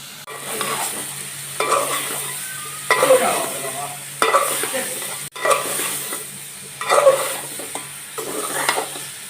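Spice paste being stirred and fried in a pan for a Bengali koi fish curry with papaya and potato, a steady sizzle under repeated scraping strokes of a spoon, close and continuous with no talk.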